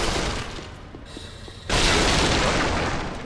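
Fire bomb explosions in the Dark Souls III video game sound as loud, dense, roaring blasts. A sustained burst dips briefly, then a second heavy eruption swells and fades, with no talking over it.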